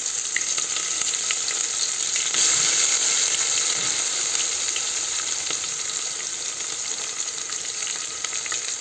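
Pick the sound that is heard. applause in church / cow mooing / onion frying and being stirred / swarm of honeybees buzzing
onion frying and being stirred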